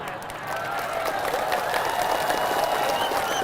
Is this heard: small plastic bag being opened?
no